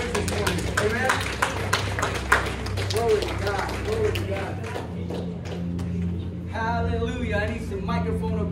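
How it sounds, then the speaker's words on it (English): A church congregation at a Sunday morning service claps hands in a quick, steady rhythm, sharp claps layered over voices and singing before the clapping thins out. "clap your hands and give him the praise this morning"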